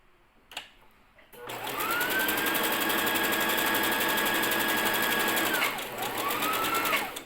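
A Brother JV1400 portable sewing machine runs a zigzag stitch in a loud, fast, whirring buzz that lasts about four seconds, stops briefly, then starts again, with a faint click or two before it begins.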